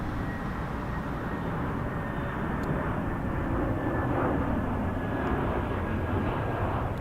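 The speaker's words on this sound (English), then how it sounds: "You're flying an Airbus 321, they're just touching down." A passenger airliner, an Airbus A321, touching down at Toronto Pearson Airport, with a steady, loud broadband engine roar that holds throughout at close range and no voices over it.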